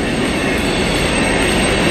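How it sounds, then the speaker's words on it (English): Train passing near Ohiopyle State Park, Pennsylvania: a steady, loud rumble of railcars with wheel squeal and a faint clickety-clack running throughout, with no voices. "I don't know if you can hear the train in the background."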